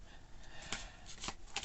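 Tarot cards being shuffled by hand, a few soft riffling bursts and brief papery flutters, quiet and close, with no talking.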